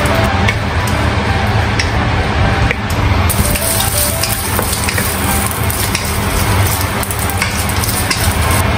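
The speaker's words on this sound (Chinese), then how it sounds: "炒香午餐肉" Luncheon meat stir-frying in a pan, loud continuous sizzling with scraping stirs of a spatula close up.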